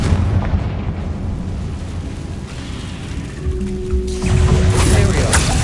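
Confringo fire spell explosions in Hogwarts Legacy, a loud, rumbling blast with roaring crackle that swells and fades, followed by another burst near the end, with no talk.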